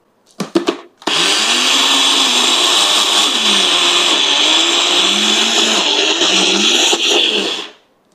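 A kitchen blender grinds peanuts into homemade peanut butter, running as one loud, steady whir for about seven seconds after a few short starting pulses, then spinning down at the end.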